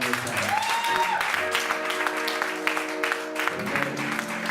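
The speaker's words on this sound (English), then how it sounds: "Your clapping is so encouraging." Continuous clapping from a large church congregation fills the space while someone speaks over it, the applause holding steady without fading.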